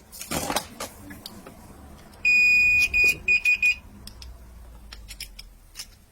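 A continuity tester checking three-phase motor windings emits a long steady beep followed by several short beeps in quick succession, close and clear, amid light clicking and handling noise.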